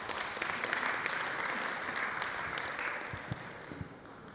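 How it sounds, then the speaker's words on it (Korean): An audience at an environmental leaders' forum gives sustained applause, a dense even roar of clapping heard at moderate distance that holds steady to the end. "큰 박수 부탁드립니다."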